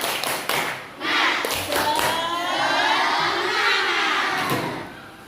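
Class 3 schoolchildren perform the tepuk semangat clap chant in a classroom, sharp rhythmic claps mixed with shouted voices, loud and close, running continuously with a teacher's voice among them.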